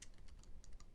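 Rapid, faint keystrokes clatter on a computer keyboard in a quick irregular run, close but quiet.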